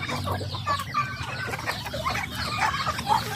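Caged chicks call out on a backyard farm with a steady stream of overlapping peeps and soft clucks at moderate distance over faint ambient noise, no voices.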